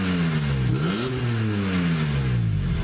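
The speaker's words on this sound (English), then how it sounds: "It's got that raspy sound." A BMW E46 M3 with the S54 engine revs up close through a raspy Eisenmann race exhaust, the pitch climbing, dipping, then rising again before settling into a steady drone.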